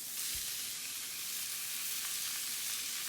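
Chopped artichokes and onion sizzle steadily in a hot pan as they sweat down: a continuous, close frying hiss with no talking.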